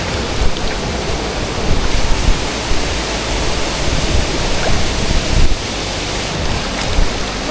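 Water rushing and pouring continuously at Kalu Waterfall, a loud, dense, steady roar filling the whole clip with small surges, no voices.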